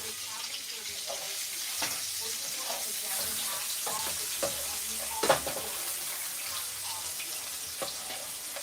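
Lemon garlic lamb chops fry in a shared pan with a steady broadband sizzle, broken by occasional sharper spits and crackles, close and moderately loud, with no talking.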